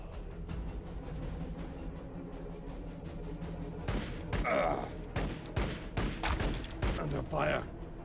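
Gunfire rattles in the Warhammer 40k Battlesector strategy game, starting with low rumbling and then sharp bursts of shots and impacts clustered in the second half amid battle noise.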